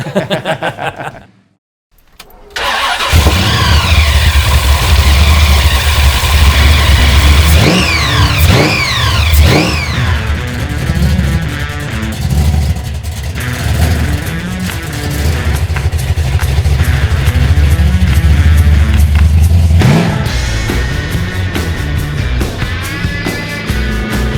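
1971 Holden HQ Monaro GTS coupe with a supercharged 502 Chevy big block V8 firing up after a brief silence, then loud rough idle and repeated sharp revs rising and falling, close and powerful.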